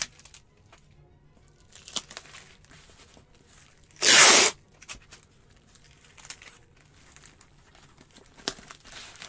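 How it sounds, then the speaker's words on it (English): Packing tape ripped off the roll onto a shipping box for a large fragile antique, a single loud tearing screech of about half a second standing out against a quiet room with faint rustling. "And I'm going to tape this one up."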